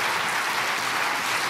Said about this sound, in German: Und da ist schon der erste kleine Applaus, brandet auf zurecht.